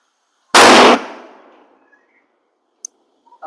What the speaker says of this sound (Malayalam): Dragon deluxe bomb.